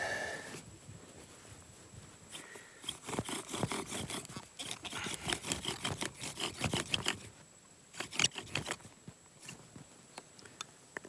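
A wooden bow drill spindle spins back and forth in rapid rasping bursts of friction, sawing strokes in uneven runs with brief pauses, close and fairly quiet in an outdoor survival setting.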